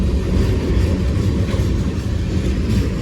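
A freight train with container cars rolls past on a rainy morning at Bayview Road in Blasdell, New York, a steady close rumble with clickety-clack of wheels over rail joints throughout.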